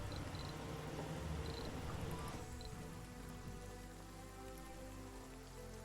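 Steady rain in the video game Surviving Mars, a dense continuous patter that fills the scene without pause, faint insect-like ticks scattered over it and no voices.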